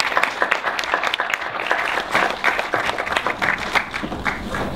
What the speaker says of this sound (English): We'll clap now. This is the time we clap.